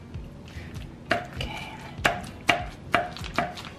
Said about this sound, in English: So, thanks to Kim, she's chopping it for me.